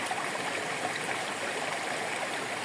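Water at Kabuayahan Falls pours in a steady, even rush with no talking, a continuous broadband roar like a stream heard from close by.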